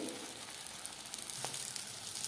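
Green chillies roasting in a pan crackle and sizzle softly and continuously, with a faint scrape partway through; no one talks.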